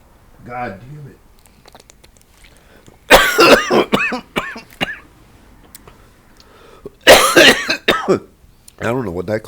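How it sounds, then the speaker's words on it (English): Someone coughs in loud, harsh bursts, two clusters of rough hacking with throat clearing, close to the microphone, with a voice speaking briefly before and after. "I don't know what that cough's even about right now."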